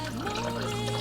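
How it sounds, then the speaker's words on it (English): Water poured into a pot holding meatballs, onion mixture and pasta, a steady close splashing trickle with a faint hum underneath. "So what I'm going to do now is I'm going to go ahead and add in my water,"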